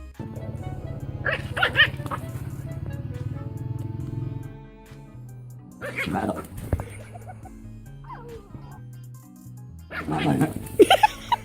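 A small dog yaps and barks in short, excited bursts, with quieter stretches in between and some background music underneath.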